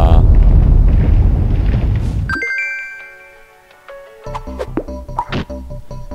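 A big explosion in the video game Wrath of the Dead Rabbit, a loud low rumbling blast that dies away into ringing chimes and tinkly game effects, then a run of sharp thumps and pops.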